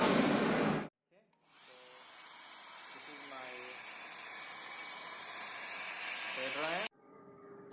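A steady broadband blowing hiss runs for several seconds after a brief burst of noise, with faint scattered tones underneath; a hair dryer blowing hot air close by onto a dead Dell laptop.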